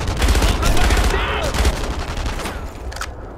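A PPSh submachine gun fires in the WWII shooter game Enemy Front, a loud, rapid burst of close gunfire that rattles for a few seconds and fades into a faint echo.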